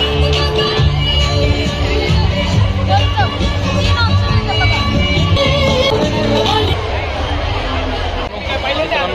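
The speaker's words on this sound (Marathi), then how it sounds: "खूपच जास्त अशी गर्दी आहे." A large crowd fills an expo at Malpani Lawns in Sangamner with loud, constant babble of many voices close by.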